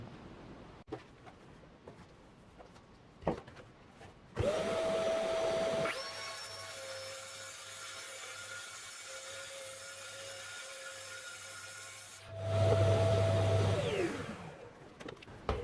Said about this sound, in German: jetzt habe ich schon mal der Länge nach das Brett geschnitten auf die 21 mm